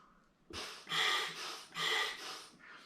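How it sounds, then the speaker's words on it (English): Someone breathes through a scuba regulator during a pre-dive safety check, giving two or three close, hissing inhales and exhales in a slow, even rhythm with no talk. "we should just check if when you breathe, it's breathing easy"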